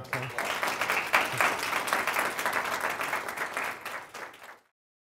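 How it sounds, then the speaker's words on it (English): Sustained applause from an audience, many hands clapping steadily before fading out to silence. "Let's give Michael a big round of applause."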